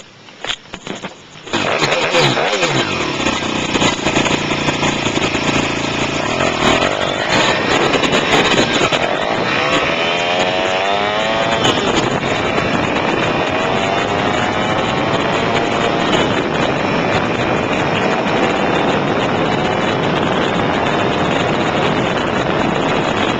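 A CT70 clone minibike engine starts and then runs continuously through a ride, loud and close, with the pitch rising and falling as it accelerates and shifts.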